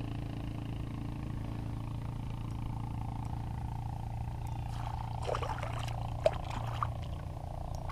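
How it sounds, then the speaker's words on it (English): A hooked walleye splashes in the water beside a canoe on Sylvan Lake, a brief burst of watery thrashing close by over a steady low engine-like hum, ending in a sharp slap. "Oh, big splash."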